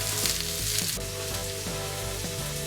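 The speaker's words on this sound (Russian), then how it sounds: "Отправляем наш лучок на сковородку с маслом." Chopped onion sizzles in hot oil in a frying pan over near-maximum heat, a close, continuous crackling hiss with faint stirring scrapes and no talk.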